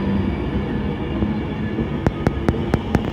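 An Avanti West Coast express rolls through Warrington Bank Quay on the West Coast Main Line, a steady loud rumble of wheels on rails with a rapid series of sharp clacks over rail joints near the end.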